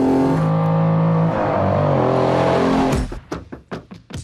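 A vintage Lamborghini Countach V12 engine roars loudly at high revs, then drops away into a series of sharp, rhythmic blips as the throttle is pumped.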